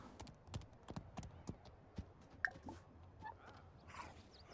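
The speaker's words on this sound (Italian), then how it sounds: "Oddio, posso abbracciare il cavallo?" Horse hooves clip-clop on a ranch in The Sims 4, a series of light, irregular hoof taps at moderate distance with no talking over them.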